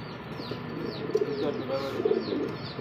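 Fancy pigeons at a bird sale coo softly and repeatedly, low throaty calls rolling over one another close by against a faint background murmur.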